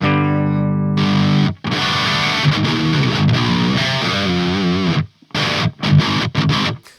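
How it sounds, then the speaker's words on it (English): An electric guitar plays through the rhythm channel of a Laney amp with a Line 6 HX Effects unit in the loop, giving loud, distorted chords and riffs. A sustained chord rings, then gives way to chugging rhythm playing with short stops near the end. "so that is the sound of just the Laney's rhythm channel."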